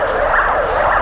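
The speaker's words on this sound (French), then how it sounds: "L'ambulance qui essaie de se frayer un passage avec les bouchons interminables" An ambulance siren wails through congested winter traffic in Moscow, a loud, steady two-tone warble sweeping up and down continuously over a low rumble of street noise, with no voices.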